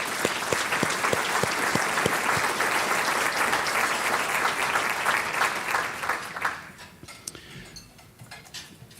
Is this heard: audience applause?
yes